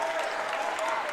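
A high school boys' basketball crowd claps and cheers in a dense, steady burst after a three-point shot banked in, with a voice talking over it.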